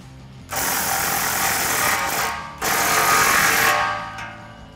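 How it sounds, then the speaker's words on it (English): A 15 mm socket tightens an exhaust clamp on a 2021-2022 Ford F-150 Corsa sport exhaust, giving two loud, close, sustained mechanical bursts, each lasting about two seconds and trailing off, like a power ratchet or impact driver. "Now we can slide our clamp into position and tighten that down with our 15 millimeter socket"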